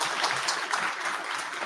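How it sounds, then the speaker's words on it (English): An audience at a cloud security tech event claps in a steady, dense burst of applause that fills the room briefly. "First of all, let's clap to Roy"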